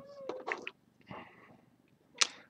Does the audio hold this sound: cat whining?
yes